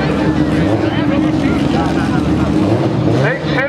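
A drag racing car with an inline six-cylinder 2J engine roars loudly and continuously at an Englishtown import drag event, the dense engine noise heard up close while an announcer talks over it.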